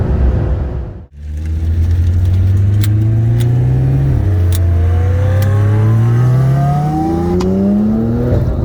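A 2019 McLaren 720S with a 2017 Porsche 911 Turbo fitted with a turbo kit on 93 octane and methanol race side by side, engines roaring loudly and climbing through gears after a brief dip.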